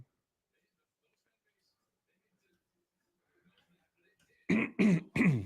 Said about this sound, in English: every now and then I'm going to have to clear my throat